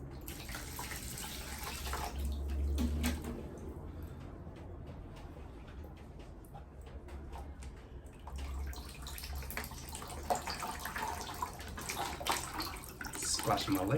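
Water pours and splashes steadily into a potted plant, with a continuous running-water hiss and occasional heavier gushes.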